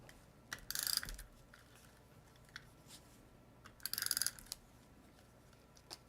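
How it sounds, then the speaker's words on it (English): A tape runner dispensing adhesive onto the back of a card frame to fix an acetate sheet, making two short bursts of rapid ratcheting clicks close up, with a few lighter isolated ticks between them and no voices. "tape runner. Does a lot of clicking."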